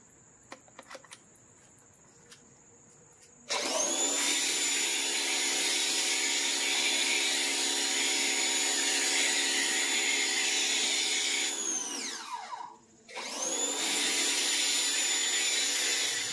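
A MATCC foam gun spraying soap foam onto a car, a loud, steady, close hiss that starts abruptly after a few quiet seconds, briefly cuts out, then resumes.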